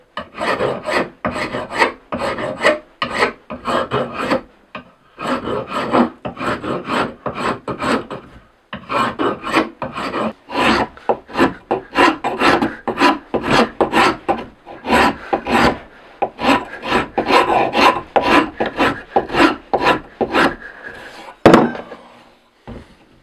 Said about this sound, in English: I've got the same kind of rasp for taking off some wood.